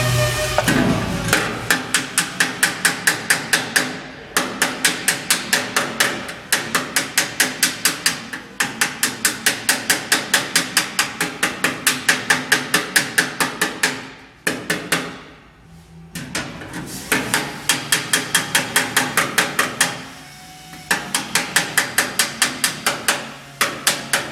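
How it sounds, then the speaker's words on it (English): A small, lightweight Snap-on body hammer bumps and shapes custom sheet metal, striking in fast bursts of sharp metallic taps broken by short pauses, loud and close. "Snap-on makes this awesome little hammer."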